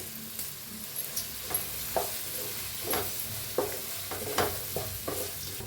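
Roasted mixture with turmeric and crushed roasted chana being stirred and mixed in a pan, a steady scraping and stirring with soft sizzle, close and alone, with repeated spoon strokes about once a second.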